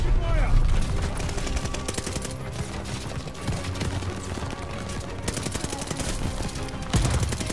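Sustained gunfire from Call of Duty: Vanguard's campaign mode, rapid machine-gun bursts and shots crackling continuously throughout, dense and loud with heavier volleys near the start and end.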